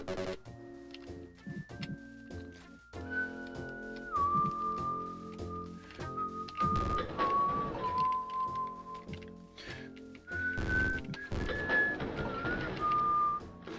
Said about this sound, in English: I have no idea how my whistling comes through on the mic.